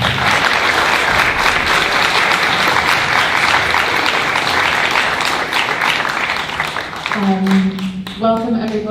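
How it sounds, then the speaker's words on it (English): Audience applause at a film screening during the Cyprus International Film Festival in Nicosia, steady dense clapping from a large crowd that fades near the end as a voice begins to speak. "Please could we have another round of applause for the film?"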